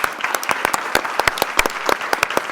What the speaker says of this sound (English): let's give another round of applause to our panelists as well